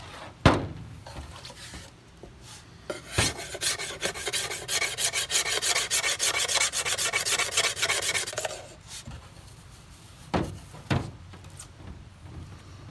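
A stainless Mora Companion knife's spine scrapes along wood in a steady rasping run of strokes lasting several seconds, bracketed by a few sharp knocks and short scrapes; close and fairly loud, with no talk.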